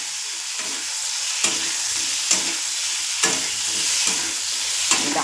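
Tomato and onion sizzle steadily in hot oil after fish has been fried in the same pan, with a spatula scraping through them about four times at irregular intervals; no voices.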